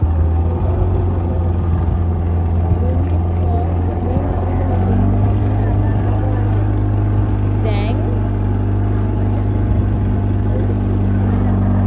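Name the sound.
motorboat on a boat ride along the Bentara river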